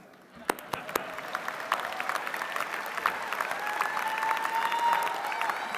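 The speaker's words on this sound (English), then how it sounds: "You can clap." Applause at a spring graduate business school commencement, starting as a few sharp, scattered claps and swelling into steadier clapping from the audience over several seconds.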